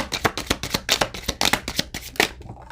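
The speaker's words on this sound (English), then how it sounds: "I just felt like I needed to shuffle those" Tarot cards shuffled by hand in quick, crisp riffling bursts, a steady run of papery flutters and slaps close to the microphone, with no talking.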